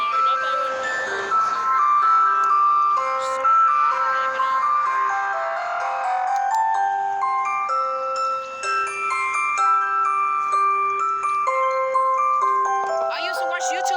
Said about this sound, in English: The ice cream truck came back in springtime.